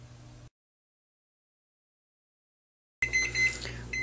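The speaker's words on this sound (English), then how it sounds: "Kitchen timer, 60 minutes." A kitchen timer set while baking banana bread goes off after a moment of total silence. It gives a sudden burst of bright, repeated beeps that carries on to the end.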